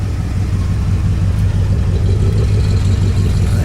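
A 1967 Oldsmobile Toronado, a George Barris custom, idles with a steady low rumble close by, with a mild swell as the throttle is blipped, running continuously with no talk.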